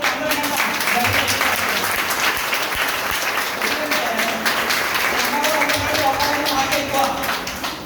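An audience at a meeting bursts into sustained applause, dense clapping that stays loud throughout with a voice speaking over it.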